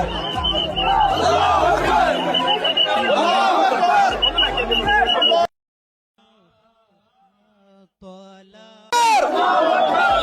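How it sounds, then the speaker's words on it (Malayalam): Large crowd at a Samastha rally in Kannur, loud dense cheering and shouting for about five seconds, then a sudden drop to near silence with a faint voice, before the roar bursts back in loudly. "അഭിവാദ്യം മുഴങ്ങുന്നു വേദിയിലും സദസ്സിലും ആനന്ദത്തിന്റെ ആശീർവാദങ്ങൾ മുഴങ്ങുന്നു"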